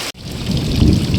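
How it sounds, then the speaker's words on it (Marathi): Heavy rain pours during the paddy harvest, with a deep thunder rumble rolling underneath; after a brief dropout at the start, the downpour stays loud and close throughout, with no voices. "आता चारही बाजून पाऊस लागतो"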